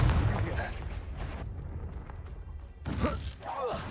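In the Hogwarts Legacy video game, the Confringo spell bursts in a deep rumbling explosion with booming low rolls and crackling debris, mixed with game combat noise and voices.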